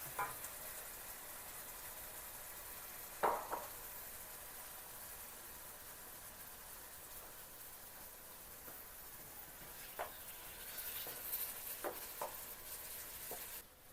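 Seafood paella with tomato simmering in a pan, a soft steady sizzle and low bubbling with a few faint clinks and scrapes, quiet and continuous with no talking.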